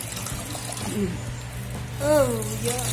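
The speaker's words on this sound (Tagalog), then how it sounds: "Nagyan ng mainit ng tubig. Tapos, lagyan ng konting malamig" Hot water, then a little cold, is poured into a bowl while coconut milk is made for bilo-bilo, giving a steady splashing hiss up close; brief bits of talk break in over the pour.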